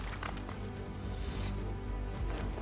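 Glass drops from the sky and breaks in Minecraft, a dense continuous crash and clatter of shards filling the whole stretch, loud and busy throughout.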